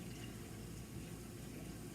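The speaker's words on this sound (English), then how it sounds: "Let some water warm up a little bit there." Water runs steadily from a kitchen tap, a faint, even rushing and splashing that continues without a break.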